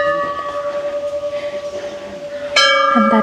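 A metal bell at the Mahakal temple in Manali rings with a sustained, steady tone that swells, then a sharper, louder strike near the end, close and bright.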